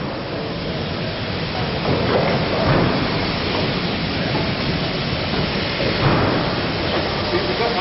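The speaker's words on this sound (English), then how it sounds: "Kevin Stuthler draws a visiting B12 460 onto the turntable." A visiting B12 steam locomotive, number 460, rolls slowly onto a depot turntable, a steady broadband rumble and hiss with faint clanks throughout, moderately loud and continuous.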